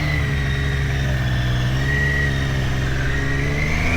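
Triumph Street Triple 765 RS motorcycle engine running loud and close, a steady throaty rumble with slight rises in revs throughout.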